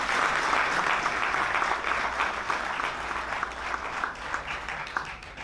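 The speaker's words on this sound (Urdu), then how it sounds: "آپ میری بیوٹیفل فیملی کے لیے زوردار تالیاں بجائیں" Loud, sustained applause from an audience at a book and short film launch event, a dense wash of clapping that carries steadily and fades slightly toward the end.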